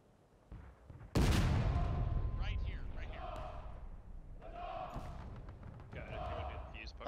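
Musket volley fire in the American Civil War video game War of Rights: one loud, sudden crash of massed rifles that rolls off into a long echoing rumble, with voices chattering over the fading reverberation.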